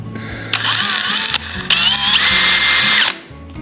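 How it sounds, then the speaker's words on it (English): Power drill with a 7/64 drill bit boring through an egg-shaped fishing bobber, two close, loud whining bursts separated by a brief pause, motor pitch wavering under load. "we can take our 7/64 drill bit, and let's put a hole right in here"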